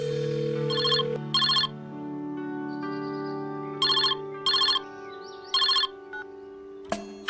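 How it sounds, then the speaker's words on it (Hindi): A telephone rings in repeated double bursts of bright electronic trills over a sustained musical tone, the pattern coming back three times before a sharp click ends it; no voices. "फोन लगाई घर पे।"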